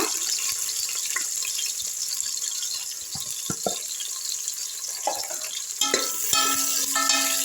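Onions frying in a pot for a crab biryani while being stirred, with a steady close sizzle and occasional scraping knocks of the spoon against the pot.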